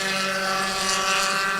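Spec Racer race cars on a track at Sebring, a loud sustained high-pitched engine whine from a car passing close.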